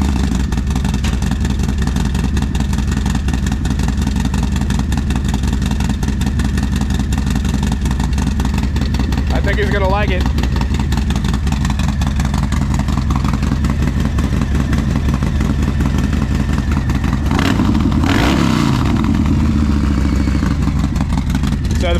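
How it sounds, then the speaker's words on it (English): A Harley-Davidson motorcycle with a Stage 2 upgrade and higher-lift cam runs loud and close with a steady, lumpy idle, and its engine note swells briefly near the end while someone speaks a few words. "with the Stage 2, it does change the exhaust profile a bit just because it sounds like a little more lumpy"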